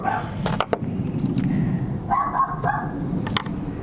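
A dog barks in a few sharp bursts over a steady background hum, with a passing aeroplane's longer tonal drone in the middle.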